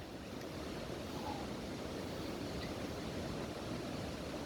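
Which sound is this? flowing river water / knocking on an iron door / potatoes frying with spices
flowing river water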